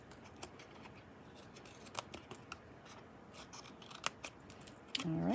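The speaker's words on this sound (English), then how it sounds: "Cut this outside section off to a little bit of an angle. Snip this a little shorter." Scissors snip through card while shaping a box and its lid, a handful of short crisp cuts spread out over a quiet background, with a louder rustle of handling near the end.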